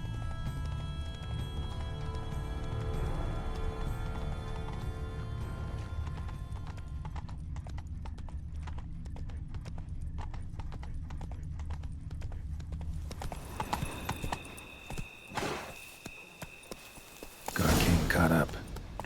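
Horse hooves clip-clop steadily through most of the stretch in The Witcher 3: Blood and Wine, with a rider urging the mount on, a brief neigh and game ambience layered underneath; a voice speaks over it.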